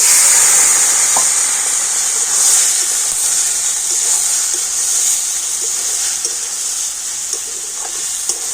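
Boiled chana dal and potato go into a pan of spices, giving a steady loud sizzle and hiss with faint stirring scrapes throughout and no talking.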